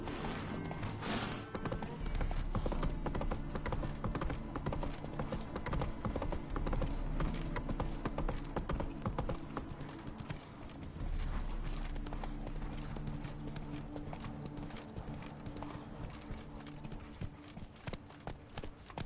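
Horse hooves from The Witcher 3 video game give a steady, fast clip-clop gallop over a constant bed of ambient game sound, close and continuous throughout, with a brief snort or whinny near the start.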